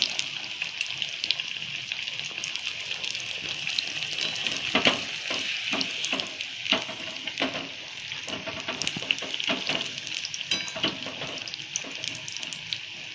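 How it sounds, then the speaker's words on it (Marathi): Bell pepper (shimla mirchi) pakodas in gram-flour batter fry in hot oil with a steady, continuous sizzle, crackling and popping throughout, close and fairly loud with no talk. "चांगला लाल कलर येतोपर्यंत दोन्ही साईडनं भाजून घ्यायची"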